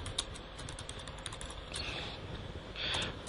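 Steady typing on a computer keyboard, rapid close-up key clicks in an uneven run with a couple of louder key presses, no voices.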